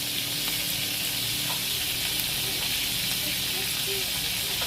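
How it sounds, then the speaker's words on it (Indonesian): Salted japu fish sizzles and hisses steadily in hot oil in a pan, a continuous close frying crackle with occasional pops. "Nah, itu ikan japunya lagi digoreng nih"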